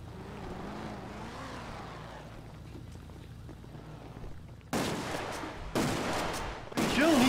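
Gunfire erupts in a GTA RP street scene, several loud bursts of shots starting partway through and breaking over a steady background of vehicle and ambient game noise, with a voice briefly present.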